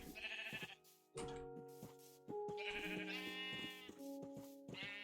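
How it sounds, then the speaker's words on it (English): Sheep in the video game Minecraft bleat several times in short, nasal calls spaced through the span, close and clear with quiet pauses between them. "But I don't think there is goats in Minecraft. I think they're just sheep."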